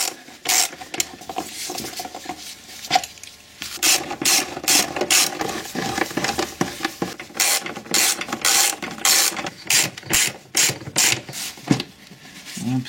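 A ratchet unscrews 10 mm screws on a car engine during servicing of a high-mileage Rodius. Close, clicking pawl bursts come in irregular runs with brief gaps, with no talking.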